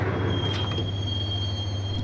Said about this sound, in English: the train doors had already shut behind me, and I was in for the ride